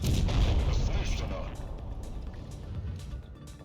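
A tank cannon fires in World of Tanks Blitz, a heavy boom at the start that rolls away into engine rumble and battle noise.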